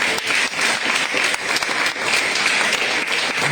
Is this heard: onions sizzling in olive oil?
no